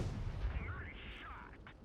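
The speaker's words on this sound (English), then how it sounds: "I'm just going to take some shots at this KV3." Tank cannon fire in World of Tanks Blitz: low, muffled booms heard under a voice as he talks, fairly quiet overall.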